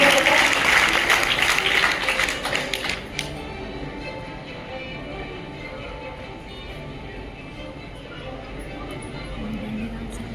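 An audience at an agricultural award ceremony claps loudly for about three seconds, then the applause fades out. A voice talks over a room-filling background afterwards.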